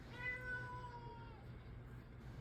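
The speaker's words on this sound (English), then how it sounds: "if you hear a lot of meowing, it's just my cat" A domestic cat on a rainy day lets out a faint, drawn-out meow that slides downward, heard alone and at a distance over a low, steady room hum.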